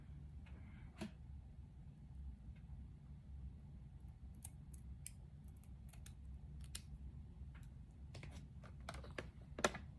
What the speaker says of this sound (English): And I'll need my scissors